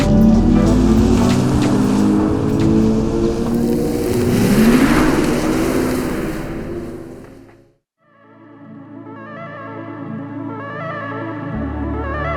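Hyundai Ioniq 6 electric car driving off, a loud engine-like roar that swells and fades before a short silence, followed by a shift to a different layered tonal sound.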